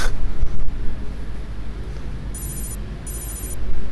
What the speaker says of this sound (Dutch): Telefoon.